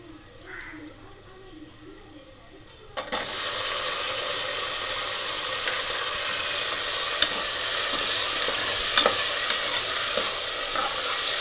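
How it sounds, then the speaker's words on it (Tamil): Tomatoes sautéing in a pan for vegetable biryani: a quiet room gives way abruptly to a loud, steady sizzle a few seconds in, with occasional sharp stirring clicks over the frying. "தக்காளி நல்லா வதக்கிக்கலாம்."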